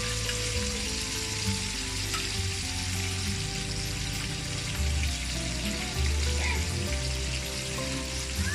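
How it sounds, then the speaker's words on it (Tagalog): Galunggong fish fries in a pan with steady, dense sizzling and crackling oil throughout, close and continuous, with a low cooking hum underneath. "Ito yung ating prito na galunggong."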